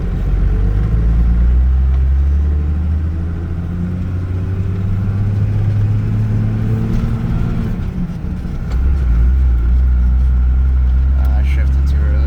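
A 12-valve Cummins diesel pickup tows a heavy load, its engine droning and revving low and loud inside the cab, dipping as gears shift, with someone talking over it.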